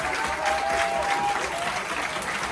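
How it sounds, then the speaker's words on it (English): An audience claps loudly and steadily for an act in the quarter finals of Talent Search Cymru, a dense burst of applause with a few faint whoops, sustained throughout. "Round of applause for Mira Molly, guys."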